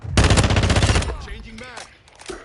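A rapid burst of automatic gunfire, loud and close, rattling for about a second before cutting off, followed by a voice talking over quieter background noise.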